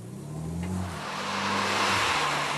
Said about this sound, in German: Es gibt wirklich nur wenige Autos, die so schön brummen.